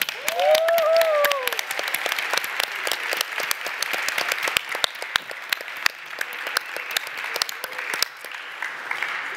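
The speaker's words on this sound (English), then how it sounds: "warm round of applause" Sustained applause from a conference audience at a youth conference closing session, dense and steady, with a brief tonal whistle or cheer near the start and the clapping holding at full strength throughout.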